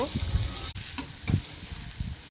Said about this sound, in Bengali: আমি প্রথমেই পেঁয়াজ আর লঙ্কাগুলো ভালো করে তেলে ভেজে নেব